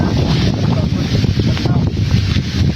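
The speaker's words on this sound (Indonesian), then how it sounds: "Anginnya lumayan kencang." Strong wind gusts over open rice fields, a loud, continuous roar and rumble of wind buffeting close by, steady throughout with no pauses.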